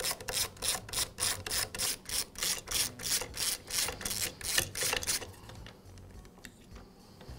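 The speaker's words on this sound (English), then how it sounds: "Now remove the two nuts that secure the airbox." A ratchet turns the nuts securing the airbox on a Husqvarna blower, giving rapid, evenly spaced clicks at close range for about five seconds. Quieter handling noises follow.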